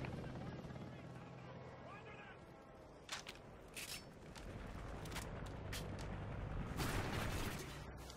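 A Hind attack helicopter arrives in the Call of Duty: Ghosts video game, its rotor drone rising beneath scattered bursts of gunfire and crackling battle effects that swell toward the end.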